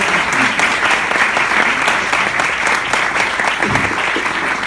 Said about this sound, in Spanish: Vamos a aplaudir, por favor, a Javiera.